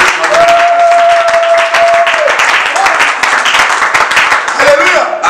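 A church congregation applauds and acclaims Jesus, with loud sustained clapping from a crowd and a singing or calling voice rising over it throughout.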